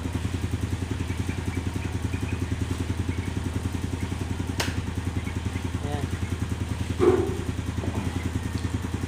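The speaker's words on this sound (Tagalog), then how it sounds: "nag-start na yung motor natin" A Yamaha Sight motorcycle engine idles steadily after a keyless start, a close, even putter running throughout with a brief click near the end.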